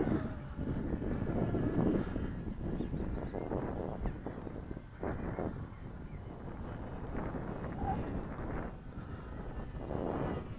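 A small RC fixed-wing plane on its maiden flight with iNav drones faintly in the distance, its motor hum mixed with steady outdoor wind buffeting the microphone.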